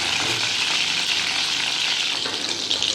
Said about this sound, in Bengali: রসুন কড়া দিয়ে দিলাম ভালো করে ভাজা হবে